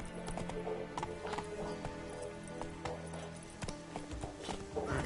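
Roach, a horse in The Witcher 3: Wild Hunt, clip-clops along in steady hoofbeats under a continuous game soundscape, fairly close and even.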